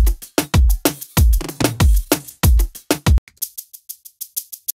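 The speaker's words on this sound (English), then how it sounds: "So here's a single shaker sample." A punchy drum groove with kicks and snappy hits plays a looping pattern, then drops out, leaving crisp rhythmic shaker strokes ticking alone.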